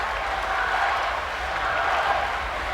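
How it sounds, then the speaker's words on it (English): Myanmar crowd cheering at a women's 50m butterfly swimming race, a dense continuous roar of many voices held at an even level throughout, with a commentator talking over it. "you can hear the Myanmarese crowd going for Ao"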